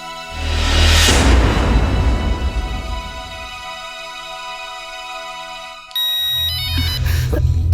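A phone ringtone plays loudly as a steady melodic tune, then a brighter electronic chime cuts in near the end.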